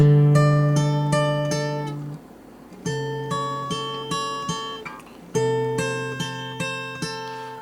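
Clean guitar notes fingerpicked one at a time in the lilting intro melody of a song, each ringing and decaying, with a brief pause before the melody resumes.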